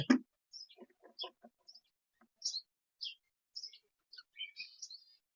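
Cockatiels, including albino birds, give a scattered series of short, sharp chirps and whistles in a quiet room, with brief pauses between calls and one louder burst at the start.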